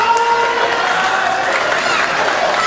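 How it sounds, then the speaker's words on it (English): A wrestling crowd cheers and applauds loudly for King Cash, a dense roar of shouts and clapping that fills the arena throughout with no break. "Listen to this crowd. They're behind King Cash."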